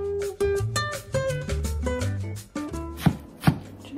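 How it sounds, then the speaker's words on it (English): A knife chops coarsely through courgette stuffing vegetables on a board, a quick run of sharp knocks with music playing underneath and two louder strikes near the end. "You can chop this quite coarsely because it's going to break down quite a bit in the pan while it's cooking."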